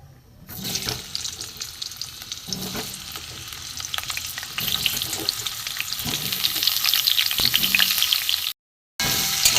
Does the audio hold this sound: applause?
no